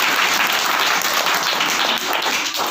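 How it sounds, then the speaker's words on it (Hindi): Applause at a school prize ceremony for an essay-writing winner, a dense, loud wash of many children clapping throughout. "इनको ताली से सम्मानित।"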